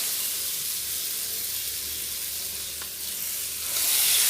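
Okra fries in a spice masala of turmeric, salt, chili powder and coriander-cumin, giving a dense, hissing sizzle that swells louder near the end. No voices.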